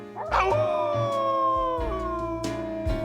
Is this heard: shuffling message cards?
no